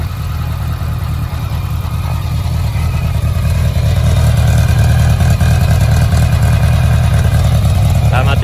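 A BMW K100 RS cafe racer motorcycle with a quiet exhaust idles steadily at about 1100-1200 rpm, close by, a low, even rumble with a slight rise in intensity partway through, with no talking.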